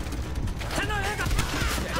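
Japanese machine gun fire in the World War II shooter Call of Duty: World at War, a dense continuous rattle of rapid shots and battle noise with shouted voices mixed in throughout.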